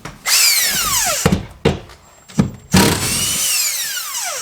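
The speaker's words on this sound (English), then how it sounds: "I'm gonna get the 1/2-inch impact, baby!" A 1/2-inch impact wrench works bolts inside a 1986 Nissan 300ZX, loud and close, in several short whirring bursts separated by brief pauses, with no talking.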